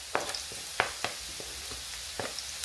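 Grated carrot frying in a pan with aromatics, a steady close sizzle broken by a few sharp clicks of a utensil stirring against the pan.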